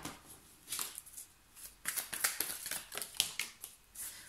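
Tarot cards being shuffled for a reading, soft quick riffles and flicks of card stock in irregular bursts, faint and close, with no talking.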